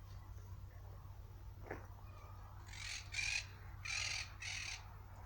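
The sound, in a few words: parakeets squawking outside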